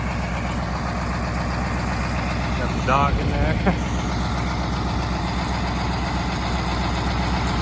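Massey Ferguson 2775 tractor engine running steadily after sitting for 20 years, a loud, even diesel rumble throughout, with someone briefly talking over it midway.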